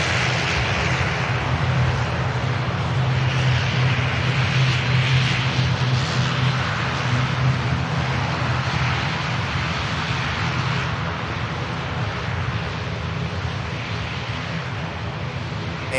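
A departing airliner at Manchester Airport roars steadily throughout, a loud, continuous broadband engine rumble with a low droning hum that holds strong and only eases slightly toward the end.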